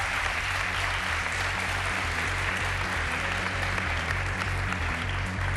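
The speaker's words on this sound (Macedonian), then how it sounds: "Една аплауз за нив." A studio audience at a televised singing competition applauds three performers, a dense, sustained wash of clapping at even loudness throughout.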